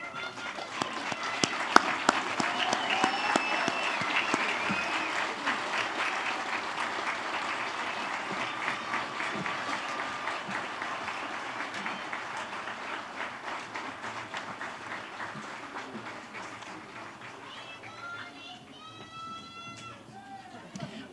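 Sustained applause fills a large commencement hall as graduates clap for their families and friends, a dense steady wash of many hands that slowly thins toward the end, with scattered crowd voices underneath.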